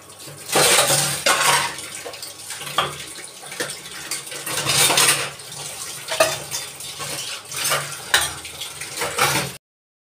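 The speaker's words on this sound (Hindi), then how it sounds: "बर्तन धुलने का जल्दी सफाई कर लेते हैं किचन में।" Dishes and utensils are washed in a home kitchen, with running water and clattering pots, plates and cutlery in irregular bursts throughout, close and fairly loud, with no voices.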